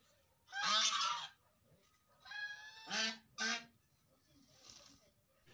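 Two geese honk repeatedly in a garden during rainfall, loud, harsh calls in short bursts with a fainter call near the end and a soft background of rain.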